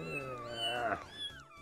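A cat meows in the VRChat video game: a single drawn-out, rising then falling meow, fairly clear and close.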